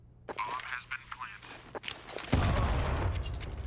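Grenade blasts and gunfire on the Mirage map in competitive Counter-Strike. Sharp scattered shots crack early on, then a loud boom swells into a sustained rumble, all under excited commentary.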